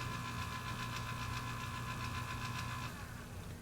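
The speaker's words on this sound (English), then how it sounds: "Now we'll see that the auger motor drives for longer." A Breckwell analog pellet stove's auger motor runs with a steady mechanical hum and drone, layered over a constant fan whir, then eases off slightly near the end; no voices.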